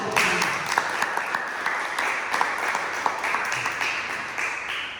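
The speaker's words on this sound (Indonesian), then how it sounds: "Oke, tepuk tangan." Classroom students clap after a group presentation in a micro-teaching informatics lesson: a steady, fairly loud patter of many hands lasting the whole stretch, with a few sharper claps standing out and faint voices mixed in.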